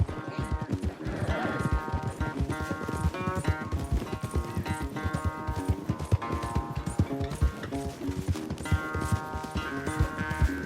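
Rapid, rhythmic hoofbeats of a galloping horse in Red Dead Redemption 2 pound steadily and close up, with a bright musical score playing over them.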